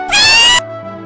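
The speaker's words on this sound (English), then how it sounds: "Kitten." A kitten gives a single sharp, loud, close meow lasting about half a second, followed by a fainter tonal tail.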